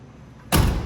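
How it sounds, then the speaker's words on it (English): The door of a 1969 Boss 429 muscle car is shut in a garage, one sudden solid thump after a quiet moment, close and loud with a short rumbling decay. "can I shut the door?"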